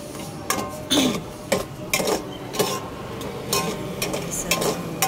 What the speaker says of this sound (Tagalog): ginigisa ko na yung corn beef